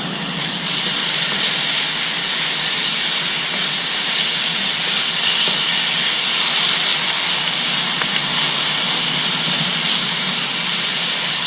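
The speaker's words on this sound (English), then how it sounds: "We love to hear that sizzle." Steady, bright hissing sizzle of bacon strips frying in a Dutch oven, continuous and even throughout with no talking.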